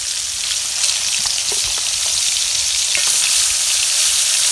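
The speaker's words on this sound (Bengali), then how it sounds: "ভালোভাবে মাছটা কিন্তু ভাজতে হবে" Loud, dense sizzling of fish frying in oil, a constant crackle up close with a few sharper pops and faint scrapes.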